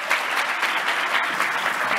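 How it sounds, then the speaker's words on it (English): Audience applause at a business forum, even and sustained for two seconds, a close, steady rattle of many hands with no voices standing out. "Let's give him a round of applause."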